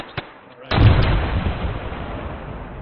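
A frag grenade goes off during platoon training, a sudden loud boom followed by a long rumbling decay, after a faint shout and a small pop just before it.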